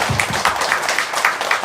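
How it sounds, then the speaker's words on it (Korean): A church congregation at a Sunday service breaks into brief applause, a dense patter of many hands clapping close together for a short burst. "감사의 박수를 하나님께 돌리겠습니다."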